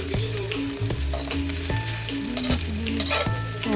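Red and yellow onions fry in hot oil while a spoon stirs and scrapes the pan repeatedly, a loud, close sizzle with rhythmic clacks and no talking.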